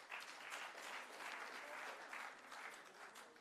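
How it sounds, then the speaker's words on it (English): Applause from an audience at a local government week gathering, a steady, dense patter of many hands clapping throughout at moderate, somewhat distant level. "We can give both of them a good round of applause."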